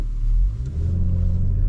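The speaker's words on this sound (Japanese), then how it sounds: "Just go soft and accelerate to pull out the car." An Audi accelerating on an ice track, a deep, steady engine rumble heard from inside the car, loud and continuous over a short stretch.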